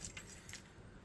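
Keys jangle briefly as they are handed over beside a car, a short close metallic rattle over a low vehicle rumble.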